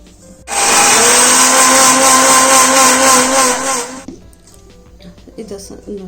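A mixer grinder grinding ginger and herbs whirs loudly for about three and a half seconds with a steady high motor whine, then stops, leaving faint clattering.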